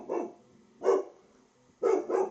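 A dog barks at someone at the door, four loud, close barks in two bursts: a single bark, another after a pause, then a quick pair, with quiet room tone between.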